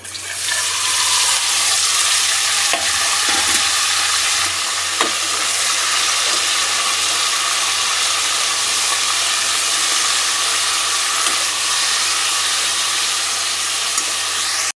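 Ridge gourd peel sizzles and fries in a pan alongside peanuts, a steady, loud, continuous crackle running throughout with a few soft stirring knocks near the start.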